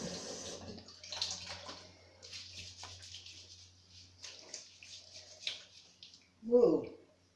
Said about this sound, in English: let me just rinse Magneto off